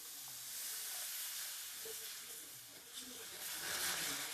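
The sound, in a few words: fish curry masala boiling with added water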